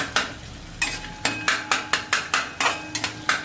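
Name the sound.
mashing vegetables in a pan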